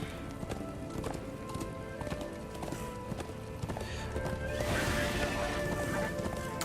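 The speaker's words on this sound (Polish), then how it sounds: "W końcu mogę użyć konia." A horse gallops in Darksiders II, hooves clip-clopping in a rapid, steady rhythm under game music and ambient noise, building slightly louder toward the end.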